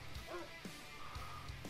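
Short barks and yips from attack dogs in the strategy game Red Alert Remastered come in a few quick bursts, faint and low in the mix, with talking alongside.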